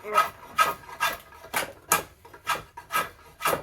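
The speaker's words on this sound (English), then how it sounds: "Need to bust the rasp out." A rasp files at a knot in a yew bow stave, giving eight rhythmic, evenly spaced rough strokes, close and alone.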